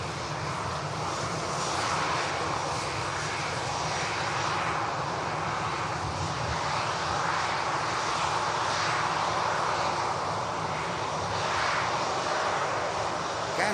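A Brussels Airlines Airbus A319 jet comes in to land at Manchester Airport, its engine noise a steady, moderately loud broadband whine and rumble that swells slightly and lasts throughout.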